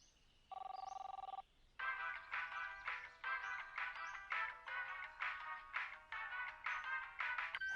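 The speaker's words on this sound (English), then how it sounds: "and he still has the same ringtone" A cartoon character's phone ringtone from Regular Show: a brief electronic tone, then a rapid, bright, trilling ring repeating in loud, close bursts, with no voices.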